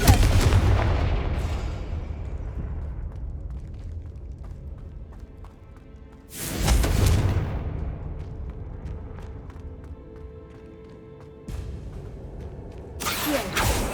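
Blasting Confringo spell explosions in the video game Hogwarts Legacy: loud, booming bursts erupt over a rumbling battle background, with a big blast midway and another near the end.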